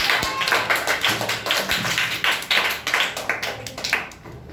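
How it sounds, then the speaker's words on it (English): A crowd at a public speaking competition on nature claps steadily for a speaker, dense and fairly loud overlapping hand claps continuing for several seconds before tapering off at the end. "Clap for Gulshan"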